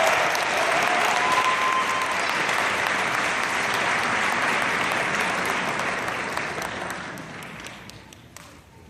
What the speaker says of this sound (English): Please join me as we give a round of applause.